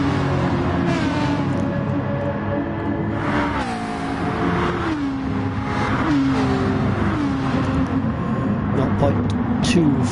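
Racing-game car engine at high speed, about 156 mph, braking hard into a right-hand corner amid a close bumper-to-bumper battle; a loud, steady engine drone with pitch sweeps runs throughout under continuous commentary.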